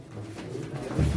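Pigeons coo softly at a Turkish pigeon auction, a low murmuring coo rising near the end of the short moment amid faint room noise.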